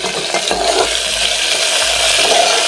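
Tomato stirred into vegetables roasting in ghee makes a loud, continuous sizzle, with dull knocks of a spoon against the pan at intervals.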